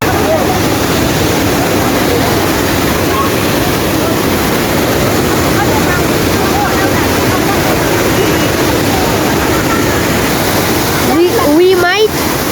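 Rushing waterfall at Jhor, a loud, dense, continuous roar of falling water close by, with faint voices and a brief whistle-like sound near the end.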